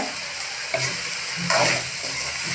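Spices sizzle and crackle in a hot pan up close while cooking mixed vegetable bhaji, with a couple of sharper bursts as they are stirred.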